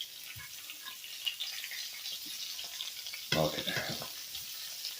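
Food fries in oil in a pan with a steady crackling sizzle throughout, rising briefly with louder spattering as it is stirred or turned, while a voice speaks a single short word.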